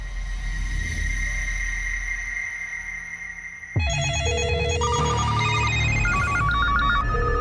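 An electronic phone tone is heard on a dialed call. A steady tone is followed by a sudden switch to a loud, warbling, melodic ringtone pattern that repeats in stepped pitches to the end.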